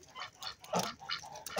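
Farmyard ducks in December snow quack in a quick cluster of short, nasal calls, close and fairly soft, with no voices.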